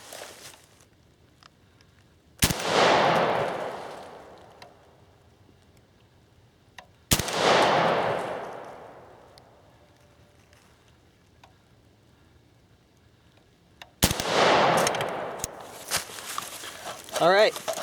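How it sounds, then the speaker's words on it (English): Three rifle shots for a final accuracy group with a UTG riser mount, each a sharp, loud crack followed by a long decaying echo, spaced several seconds apart at an outdoor range, with faint sounds between. "and we'll shoot our final group"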